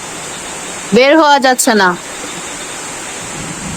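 Torrential morning downpour beside a flooded pointed-gourd field makes a steady, dense hiss throughout, with a person talking briefly over it near the start.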